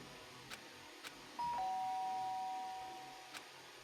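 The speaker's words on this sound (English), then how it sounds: "The sharp sound of the doorbell pierced my sleepy haze and pulled me back to the real world." A doorbell rings in the Danganronpa: Trigger Happy Havoc video game: one clear, sustained electronic chime stands alone against a quiet background with a few faint clicks.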